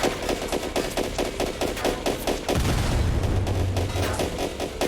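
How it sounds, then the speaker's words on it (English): An auto turret fires in a Roblox World War One shooter game, a loud close stream of rapid evenly spaced shots followed by a deep rumbling blast, with no talking. "I'm gonna use my little auto turret here to kill this guy."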